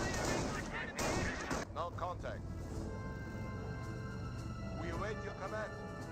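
Rolling gunfire from a Company of Heroes battle, with Panzer Grenadiers shooting at a rifleman squad, crackling steadily under an ongoing spoken commentary.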